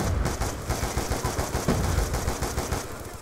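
Rapid automatic gunfire from a Call of Duty Black Ops 2 match, dense bursts of loud shots rattling continuously with overlapping fire and no pauses.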